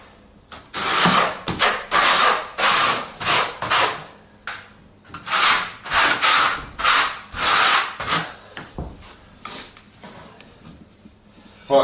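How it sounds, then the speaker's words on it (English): Trowel spreading tile adhesive on a floor, a series of close scraping strokes in an uneven rhythm with brief pauses, then tapering off near the end. "We'll start to spread this side. So again, with a trowel, just work it away from the tiles."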